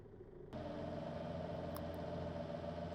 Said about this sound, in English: just going forward on both engines, just going to back them off a little bit and then start steering with my engines